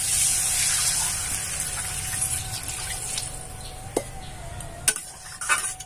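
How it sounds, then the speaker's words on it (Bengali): Water poured from a small pot into a pan of potatoes fried with spices for a chela fish curry, a steady rushing gush with soft sizzling and a few light clinks near the end, close and alone. "হাফ ঘটি জল আমি দিয়ে দেব।"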